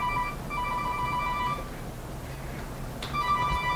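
A phone ringtone chimes in two repeating melodic bursts with a brief gap between them, steady and moderately loud over a faint background hiss.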